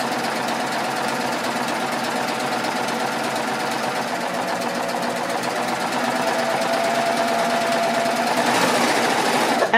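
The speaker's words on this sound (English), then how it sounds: "So I'm now just gonna come down and finish stitching the seam." A sewing machine runs continuously while stitching the seam of a handmade bag, a steady close mechanical hum and rattle with no talking.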